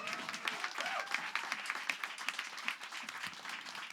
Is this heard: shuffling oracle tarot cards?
no